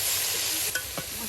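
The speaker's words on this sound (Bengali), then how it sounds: "এই যে দেখেন শাকগুলো একদম তেলের সাথে ভাজি ভাজি হয়ে একদম সিদ্ধ হয়ে গেছে" Mixed leafy greens sizzling in hot oil in a pan, a constant bright hiss broken by a few scraping stirs of a spoon, close and alone.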